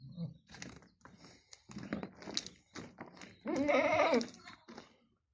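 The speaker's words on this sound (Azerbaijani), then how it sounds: "Belə südlü keçin balaları çıxdı satışa." Two-month-old dairy goat kids, bred from a Saanen mother and an Aleppo father, give one long wavering bleat late on, after a run of dry clicks and knocks nearby.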